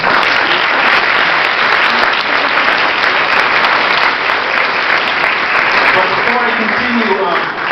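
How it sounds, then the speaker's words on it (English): A dinner crowd applauding the organizers at a Pilipino Alumni of UCLA fundraising dinner, loud sustained clapping from a large room that holds steady throughout, with some voices mixed in. "I think they really deserve a round of applause"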